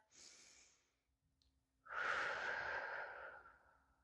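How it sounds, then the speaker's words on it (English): A slow deep breath taken after finishing a round of a de-stress relaxation exercise: a brief inhale, a pause, then a long, close, breathy exhale that fades out, with no talking. "you finish your round and you take a deep breath"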